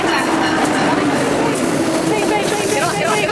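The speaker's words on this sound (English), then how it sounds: "Double-decker train." A double-decker train passes close by, a steady broad rumble and rush with faint rail clatter running through the whole stretch, while people talk over it.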